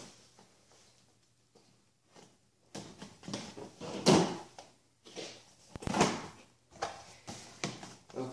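An Xbox One Assassin's Creed Unity bundle box is opened close up with scattered cardboard scrapes, rubs and flap thumps, quiet at first and then louder handling sounds.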